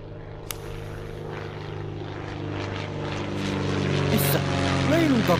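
A propeller airplane drones overhead in the VR video game Wanderer, its engine hum building steadily louder over a few seconds while a voice speaks faintly.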